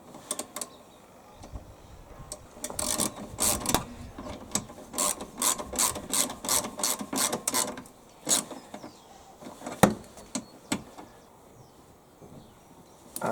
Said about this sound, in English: I can tighten that bolt back up again